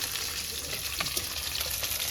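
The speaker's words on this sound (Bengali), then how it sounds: "এই মাছটা ভাজা খাবে, তার জন্য লাল লাল করে কড়া করে ভাজবো।" Fish fries hard in a pan until crisp, giving a constant bright hiss and crackle, close and uninterrupted, with no talking.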